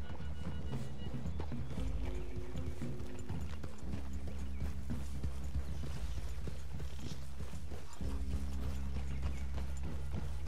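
Hooves clop steadily as horses walk in Red Dead Redemption 2, the rhythmic footfalls close and continuous over a low rumbling background with occasional creaks.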